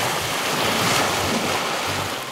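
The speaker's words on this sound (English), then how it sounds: "Bølger, waves." Sea waves roll in along a Norwegian shore in winter as a loud, steady wash of surf with a broad rushing roar, close by and continuous with no break, and no one speaking.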